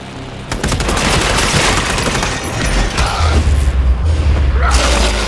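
Dense, loud gunfire rattles through combat in the video game Redeemer Enhanced Edition on Nintendo Switch, with rapid shots and heavy booms layered over continuous game noise for several seconds.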